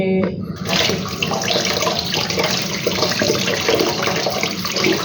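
Tap water runs steadily into a sink while sooty utensils blackened by a gas cylinder are rinsed, a continuous close splashing with no voices.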